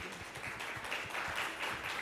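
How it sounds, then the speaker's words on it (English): An audience at an education conference panel in Dubai claps in a faint, steady round of applause to welcome a speaker. "With a huge round of applause, please welcome Richa Bhushan."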